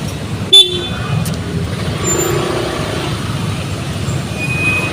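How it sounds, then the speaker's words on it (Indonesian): Afternoon gridlock in Makassar city, where a loud car horn blast sounds early on, followed by a brief second toot over a constant rumble of idling and creeping cars, buses and motorbikes. "Ya intinya daerah Kota Makassar itu di mana-mana macet kalau sore hari begini."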